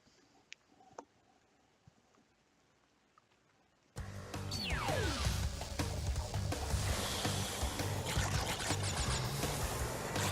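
Jet ski racing over waves in the Crash Bandicoot 3 water level, a steady loud engine drone with splashing that begins suddenly partway through after a quiet opening.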